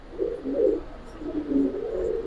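Giribaz pigeons give two low, throaty cooing phrases close by, each a rolling murmur lasting under a second, over a quiet background with no speech.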